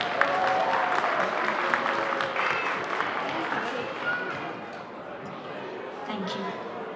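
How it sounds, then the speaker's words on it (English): Audience applauding Dr. Ravindran at an Onam celebration held by Utah Malayalees, with steady clapping under voices and crowd noise that gradually thins out toward the end. "Let's give him a big round of applause."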